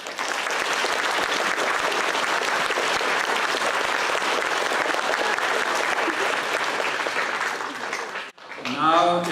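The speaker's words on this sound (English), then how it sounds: "Let's please have a round of applause." Steady, dense applause from an audience at a Future City award ceremony in Fort Wayne, Indiana, holding loud and even for about eight seconds before cutting off, after which a voice begins speaking.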